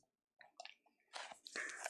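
Crunchy Wheat Thins crackers being chewed close up, a few soft bites followed by louder, dense crunching bursts with no talk.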